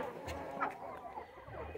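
Small young hens in a farmyard pen where ducks and turkeys also sleep give soft, scattered clucks, close by and fairly quiet, with no talking over them.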